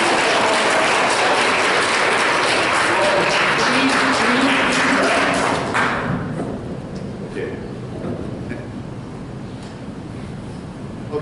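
An audience at a lecture on international economic development breaks into loud, dense applause for about six seconds, then the clapping quickly dies down to a low murmur of room noise.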